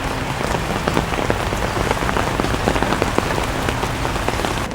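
Steady rain patters densely on surfaces outdoors, close and even throughout, with scattered sharper drops standing out and no voices.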